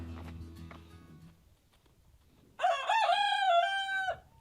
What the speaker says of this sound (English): you gotta love the roosters, right?